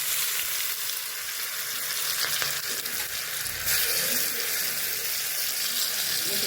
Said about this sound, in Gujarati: હવે એમાં હું ચોપિંગ કરેલું લસણ એડ કરીશ.